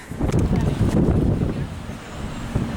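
Low, rumbling wind buffets the microphone throughout, with gusty bursts of broadband noise and faint voices in the background.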